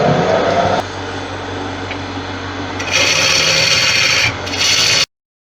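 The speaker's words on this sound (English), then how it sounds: "sharpen again." A woodturning tool is sharpened on a grinder in a woodworking shop, producing a loud close grinding rasp that shifts in pitch and intensity as the tool moves, then stops abruptly.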